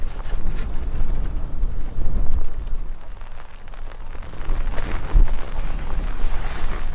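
Strong wind gusts across a fishing canal on Ganghwa Island on a stormy, rainy day, buffeting the microphone with a loud, rumbling, uneven roar throughout.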